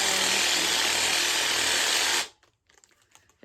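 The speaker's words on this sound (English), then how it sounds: "Not a drill, it's a Theragun." A Theragun percussion muscle massager runs loud and steady at close range with a dense, even buzz, then cuts off abruptly, leaving faint handling noises.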